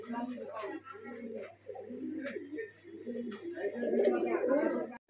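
Black homer pigeons coo repeatedly in low, throaty bursts nearby, with people talking over and around them at a pigeon farm.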